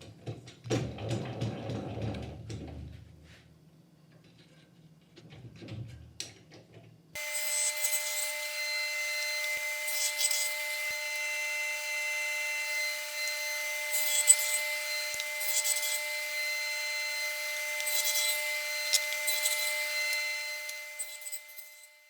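A table saw blade cuts quarter-inch dados for drawer slides: a few knocks and rubbing sounds first, then the saw's loud, steady whine with the blade grinding through the wood.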